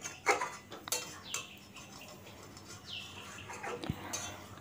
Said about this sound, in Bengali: এরপর খুব সুন্দরভাবে এটা মাখিয়ে নিচ্ছি, নেড়ে নেড়ে।